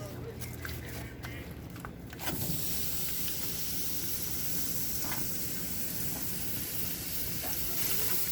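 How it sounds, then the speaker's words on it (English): Steak seasoned with salt and pepper hits a hot Blackstone griddle, and after a couple of quiet seconds with light taps a loud, steady sizzle bursts in and continues close up without a break. "You want to spread it out so it gets kind of browned all over the place"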